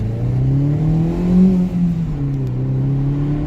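Fiat Panda 100HP hot hatchback engine accelerating from inside the cabin, a steady buzzy drone that climbs in pitch through a gear, briefly swells louder, then settles into an even higher hum.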